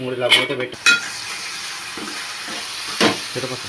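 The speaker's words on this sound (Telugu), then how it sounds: "మెంతికూరని ఒకసారి కలుపుకొని చూద్దాం. ఇలా కలుపుకుందాం." Fenugreek leaves and onion curry being stirred in a pan, with a few scraping strokes of the spoon over a soft, steady sizzle of cooking.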